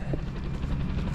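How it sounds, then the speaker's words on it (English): A helicopter flying over a park while spraying for gypsy moths, a steady loud rotor drone filling the whole short stretch without any pause. "There's a helicopter over here in the park area."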